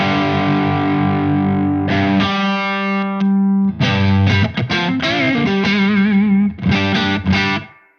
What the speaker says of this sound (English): such a fantastic low gain overdrive